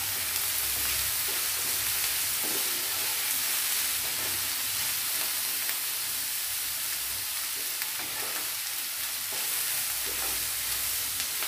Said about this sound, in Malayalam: തുറന്ന് നോക്കിയിട്ട് നല്ലപോലെ ഒന്ന് ഇളക്കി വയ്ക്കാം